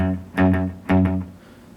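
An electric guitar on its bridge pickup, sounding bright and trebly through a fast, short tape-style delay, plays two strummed chords about half a second apart, each followed by quick slapback repeats before fading out, with no talk.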